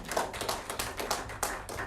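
Sparse, uneven clapping at a World Party Convention in Nepal for Mr. Toshio Suzuki: a handful of close hand claps and taps in an irregular rhythm, with a few louder individual strikes.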